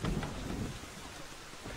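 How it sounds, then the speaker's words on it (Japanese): Storm audio from Zelda: The Wind Waker: a low thunder rumble fades out early under steady rain and a faint windy hiss, with no talking. "この嵐の中に帰ってきてもね。"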